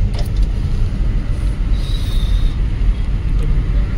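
Traffic heard from inside a moving car on the road toward Pen, a continuous low rumble of engine and road noise with a faint passing tone, no talk.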